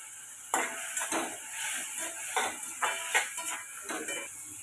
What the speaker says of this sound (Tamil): இது கூட ஒரு ஸ்பூன் அளவுக்கு இஞ்சி பூண்டு சேர்த்துக்கோங்க